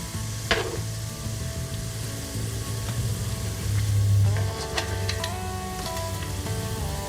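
Pork belly deep fries in hot beef tallow with a steady, dense sizzle and crackle, punctuated by a few louder pops, close and continuous without talk.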